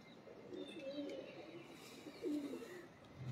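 Pigeons coo softly in a loft, a few low throaty burbling calls rising and falling quietly against faint background noise.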